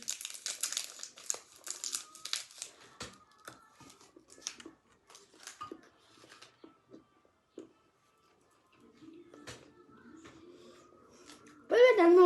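A candy wrapper is opened close up with bursts of sharp plastic crinkling and crackling, louder at first and then more sporadic, with a person talking at the end.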